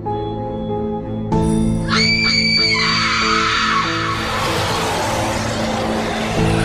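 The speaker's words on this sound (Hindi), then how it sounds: "सारे ज़ॉम्बी जोर जोर से चिल्लाने लगते हैं" Zombies in a cartoon horror story scream loudly together, a sustained harsh chorus of wails and shrieks over a droning background that swells into a dense roar and carries on for several seconds.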